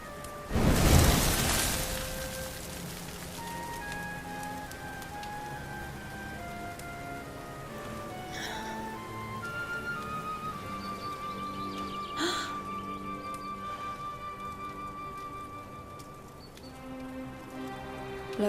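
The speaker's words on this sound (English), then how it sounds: "Looks like the rain's dying down." Steady rain pours down across a video game landscape near the ruins of Dundrasil, a dense hiss of drops with a loud burst near the start, light tonal music and effects layered over it, no voices.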